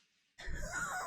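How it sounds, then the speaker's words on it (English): A person clears their throat once, a short rough burst close to the mic after a moment of near silence. "had to clear my throat"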